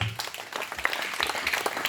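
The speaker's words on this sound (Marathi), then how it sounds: "दोघांसाठी जरा टाळ्या वाजवा जरा" Audience applause at a workshop session, steady clapping from a group filling the two seconds at moderate level, with a little background voice mixed in.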